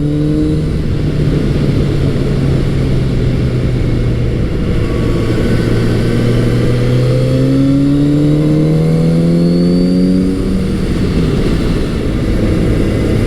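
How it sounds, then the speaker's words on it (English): Kawasaki Z900RS four-cylinder motorcycle engine revving continuously and loudly, with rising and falling pitch sweeps as it accelerates and shifts through corners, close by with no talking. "And there's that great sound from that Kawasaki four-cylinder."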